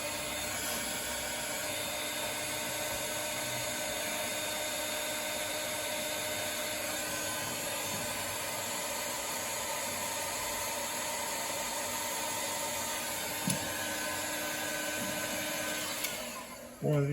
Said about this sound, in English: So now I'll hit this with the heat gun and shrink that down